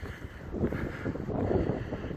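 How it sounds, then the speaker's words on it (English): Steady low rumbling wind buffeting the microphone at Vance Creek Bridge, continuous and fairly loud throughout, with no voices. "It's a bit windy though"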